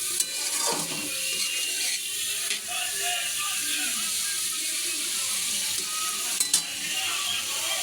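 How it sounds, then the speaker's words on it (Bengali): Ginger-garlic paste frying in a pan with a dissolved mix of dry cumin, coriander and chili powders, stirred steadily, giving a continuous hiss and sizzle with soft scraping throughout. "এবার আদা রসুন পেস্টটা দিয়ে একটু নাড়বো।"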